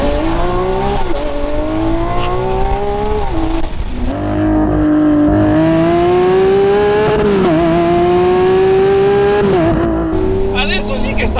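A Lamborghini Aventador Ultimae V12 engine roars loudly and continuously up close, its pitch climbing and dipping through repeated revs.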